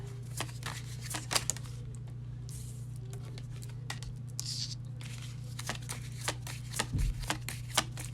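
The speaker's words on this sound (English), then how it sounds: "I'm gonna pull out at least 3 cards." Tarot cards shuffled and drawn by hand, a steady run of soft riffling and papery slaps over a constant low hum, close and fairly quiet, with no talking.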